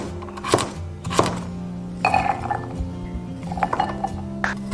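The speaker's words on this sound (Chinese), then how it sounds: "把提前削皮的胡萝卜切丁备用" A knife dicing peeled carrots on a cutting board, giving a few sharp, close chopping knocks spaced irregularly over a steady background hum, with light clinks between strikes.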